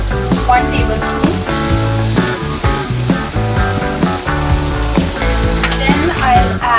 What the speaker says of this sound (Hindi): तो सबसे पहले मैं यहाँ पे ले रही हूँ सोया सॉस 1 टेबलस्पून।